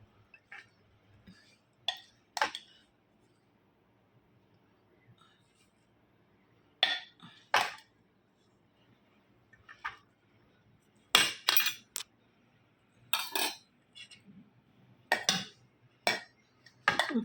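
Dishes and cutlery clink while rice is served at home, scattered sharp metallic and ceramic knocks arriving in irregular bursts, close and clear, with quiet gaps between them.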